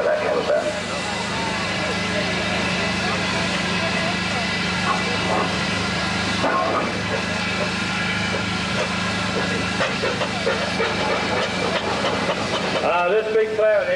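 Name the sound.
big steam ploughing engine leaving at steam rally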